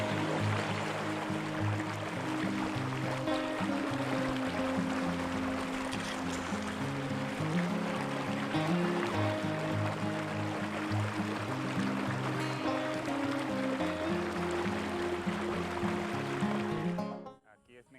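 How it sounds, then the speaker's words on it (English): Irrigation water gushing out of a pipe driven by a pump motor into farm channels, a loud continuous rushing flow with a steady mechanical hum, close up, ending abruptly. "the water comes out propelled by the motor"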